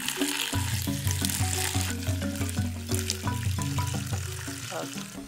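Water is poured into a pot of gongura leaves for village-style chutney, a continuous splashing, bubbling gush with hissing overtones, close and steady for several seconds without speech.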